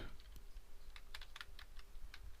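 Someone typing a project name on a computer keyboard in an online editor, producing quiet, irregular key clicks in short bursts with no voices.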